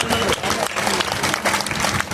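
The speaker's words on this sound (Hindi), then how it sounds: "जोरदार तालियों से आपका स्वागत है" A crowd at a women's conference in Kekri, Rajasthan, claps loudly to welcome a speaker, a dense and sustained wash of applause that fills the short moment.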